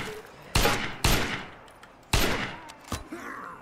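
Gunshots in the zombie survival game State of Decay: four loud, sharp shots with short echoing tails, fired irregularly over a few seconds against a low background hum.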